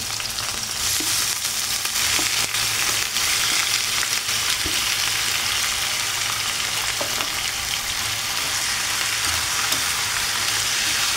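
Adobo frying in a pan in a home kitchen gives a steady, dense sizzle and crackle that runs unbroken throughout, with no talking.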